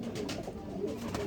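A pigeon held in a hand gives a short, soft series of low cooing notes, heard up close with no talking.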